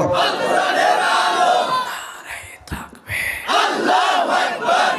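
A large crowd at an open-air Bangla waz sermon in Pabna roars a loud, unified takbir chant of "Allahu Akbar" in sustained swells, dipping briefly before surging again.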